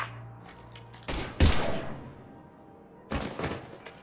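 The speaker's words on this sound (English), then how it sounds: "Now open fire!" A Mass Effect 3 firefight: sharp gunshot bursts ring out around the 1 and 1.4 second marks, another volley follows near 3 seconds, and quiet gaps separate the bursts.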